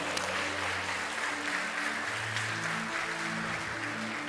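A church congregation applauds during a sermon, a steady wash of clapping sustained throughout with a low organ or keyboard chord droning underneath.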